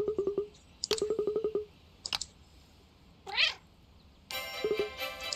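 Game-world cat meows from Cat Quest sound in short clipped bursts, several rapid calls in a row, then a chirpy trill and a bright jingling effect at the end, all close and clear with no talking.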